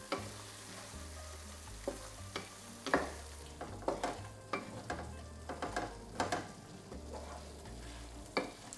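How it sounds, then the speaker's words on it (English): Tofu cooking in a thick satay coconut sauce, with a low steady sizzle under repeated clinks and scrapes of a utensil stirring the pan, close and moderately loud, with no talking. "We'll cook this just for a minute or two until the sauce is really thick and coats the tofu."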